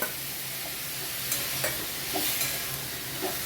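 Soft ridge gourd fries with poppy seed paste in a pan for a Bengali moong posto dish, giving a steady close sizzle with occasional light scrapes of stirring.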